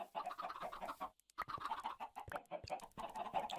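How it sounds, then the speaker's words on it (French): Chickens cluck repeatedly in a Minecraft-style game world, a flock of fowl giving a busy, overlapping stream of short clucks with a brief pause partway through. "là on a beaucoup de poulets"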